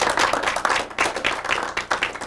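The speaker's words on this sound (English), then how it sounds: "Give one more round of applause." An audience applauds after Dr. Michael Horton's talk on making and managing change, with close, continuous clapping and sharp individual claps throughout.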